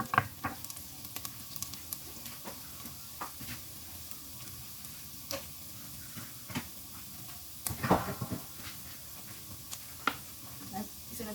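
Minced meat sizzling and frying in a pan with garlic as pasta sauce is cooked in a home kitchen, a soft steady hiss broken by scattered stirring clanks and utensil knocks.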